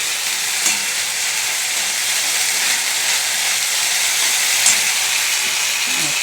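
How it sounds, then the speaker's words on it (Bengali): Green chili paste frying in hot oil for a fish curry, giving a loud, steady sizzle with no pauses and no voices. "কাঁচা লঙ্কা বাটা একটু পেস্ট করে রেখেছি, অল্প করে দিলাম"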